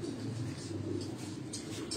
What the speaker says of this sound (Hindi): ये दोस्तों वो चपड़ा कबूतर जिसकी उस्ताद जी बात कर रहे थे